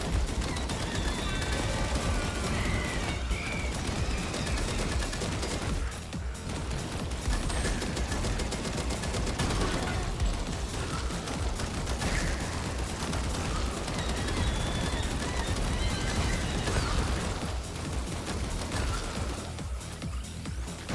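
Pistol fire in the Western shooter game Far Far West, with loud, continuous gunfire and explosions blending into a dense roar for a long stretch, and a voice talking briefly underneath.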